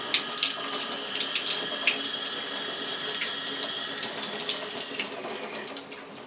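Tap water runs steadily into a container, a close splashing, gurgling stream with small bubbly surges as it fills, with no voices.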